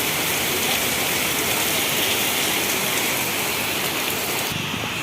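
Heavy monsoon rain pours down steadily over Karad town, a dense, loud hiss of water with no pauses from start to finish.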